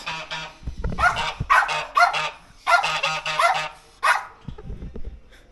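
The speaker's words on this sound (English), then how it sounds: "and a guard goose." A guard goose honks in a run of loud, close, repeated calls, mixed with dog-like barking bursts, at a coffee shop outdoors.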